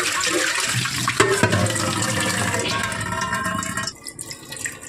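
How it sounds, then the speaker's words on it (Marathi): Water is poured into an idli cooker, a close splashing gush that fills and trails off into a few drips and clinks near the end. "इडलीच्या कुकरमध्ये इथे पाणी उकळायला ठेवत आहे"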